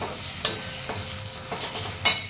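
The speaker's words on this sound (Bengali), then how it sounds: "এদিকে দেখো আমার গ্যাসে পেঁয়াজটাও, মানে কড়াইতে পেঁয়াজটাও ভাজা হয়ে গেছে মোটামুটি" Onions fry in a wok on a gas stove with a continuous crackling sizzle, broken by a few loud stirring scrapes spaced irregularly, heard close with nobody speaking.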